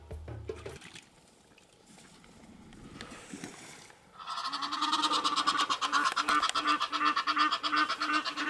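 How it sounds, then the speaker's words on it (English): Egyptian geese fly in and land at an African bushveld hunting spot, starting with faint stirrings and then a loud, sustained burst of honking calls and wing noise that carries on steadily. "I got beaten by Egyptian geese coming flying in and landing"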